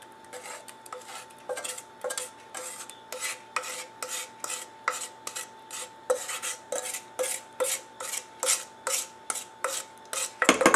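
Banana batter being stirred into a flour, baking soda, baking powder and salt mix for crumb muffins, heard as a steady series of scraping, clinking spoon-against-bowl strokes roughly once per half second, close and unaccompanied by talk.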